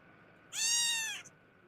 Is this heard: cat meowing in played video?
yes